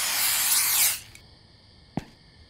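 Rat repellent spray in The Convenience Store video game gives a loud, steady hissing burst for about a second that cuts off sharply, followed by a quiet gap and one brief soft click.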